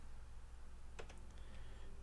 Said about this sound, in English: So I'll start typing in link.